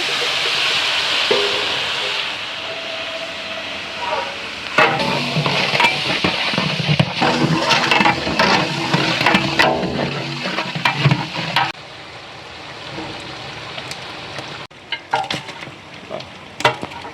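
Tomatoes sizzle and fry in a pot for mutton biryani cooked outdoors on farmland, with a steady hiss that swells into louder bursts of stirring and spattering midway before settling again.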